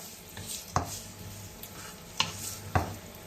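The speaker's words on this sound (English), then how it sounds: "Just going to give that a little stir, just want to infuse that oil a little bit with the ginger" Ginger and spring onions sizzling in oil in a pan, a steady hiss broken by three sharp clinks and scrapes of a utensil as they are stirred, close and moderately loud, no talk.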